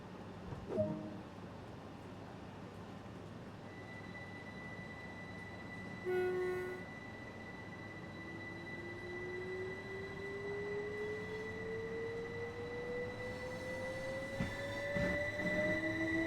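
Train in the Train Sim World 2 game, a steady rumbling run with a brief horn-like tone and a rising whine building as it gets underway, continuous and fairly close.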